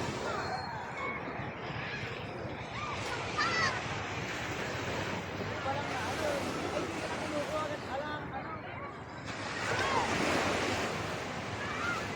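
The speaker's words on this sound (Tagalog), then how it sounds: "Pero, malalakas yung alon." Strong ocean waves crash and wash continuously at San Fabian beach, with wind buffeting the microphone and surges of surf rising and falling.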